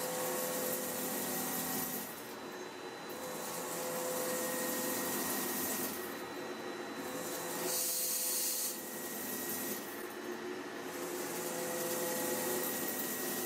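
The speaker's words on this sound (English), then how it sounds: "The cutting tool rotates at a high speed and cuts into the gear blank, removing metal and creating the teeth of the gear." A bevel gear cutter spins at high speed and machines teeth into a metal gear blank, giving a steady, loud grinding rasp that swells and eases in several long waves, with no voices.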